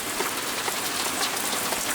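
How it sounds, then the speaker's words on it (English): Steady rain falls on a woodchip-mulched vegetable garden in winter, a dense, even hiss of countless drops pattering on the ground, continuous and close with no voices. "I wish it would stop raining"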